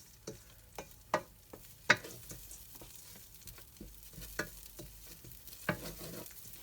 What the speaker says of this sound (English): keep stirring them a little bit. Just fry them like 1 minute.